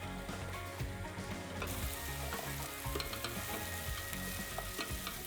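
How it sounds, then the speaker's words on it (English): Prepared vegetables sizzle steadily in melted butter in a saucepan for a broccoli and Stilton soup, a continuous close frying hiss with faint stirring scrapes and no talk. "Now add all of the prepared ingredients apart from the broccoli to the saucepan, then fry for about 10 minutes."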